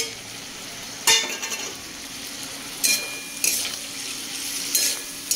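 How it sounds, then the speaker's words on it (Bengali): Katla fish head with cumin, chili and turmeric paste stirred in a wok over a low background sizzle, with a few sharp metal spatula scrapes and clinks at intervals; no voices. "এবার ভালো করে কষিয়ে নেব"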